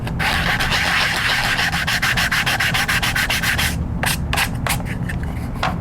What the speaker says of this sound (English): run my sandpaper on it, level it out, smooth it out